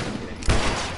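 A single sharp gunshot in the video game The Last of Us, a sudden close boom landing midway through a second of noisy background.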